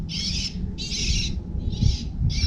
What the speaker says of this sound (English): noisy birds.